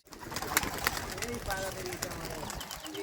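Pigeons at a pigeon-racing tournament give low, rounded coos against a busy outdoor background, with people talking nearby throughout.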